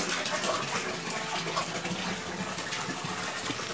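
Water gushes steadily from a tap into a gourami fish pond, a constant close splashing and rushing flow with no pauses and no voices.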